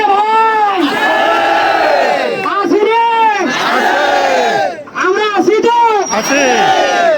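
Crowd at a street student protest at an intersection, chanting slogans in loud unison, rhythmic call-and-response bursts of many voices repeating in waves with brief pauses between phrases.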